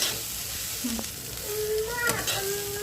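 An egg and okra (bhendi) curry sizzles gently in a covered pan on a low gas flame, a soft, steady frying hiss that stays faint over a few seconds.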